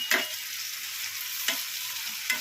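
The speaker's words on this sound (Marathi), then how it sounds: "टोमॅटो नरम होईपर्यंत त्याला हलवत राहायचं।" Tomatoes and curry leaves stirred into frying onion: a steady sizzle with three distinct scrapes of a spoon against the pan.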